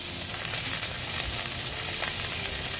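Pork chop pan-frying in a hot pan for a baked cheese and pineapple pork chop rice, a steady close-up sizzle and crackle holding even and loud throughout with no talking.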